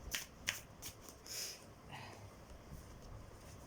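A tarot card is drawn from the deck with soft, close, papery card sounds. Faint riffles and slides come in a few quick bursts over quiet room tone, with no talking.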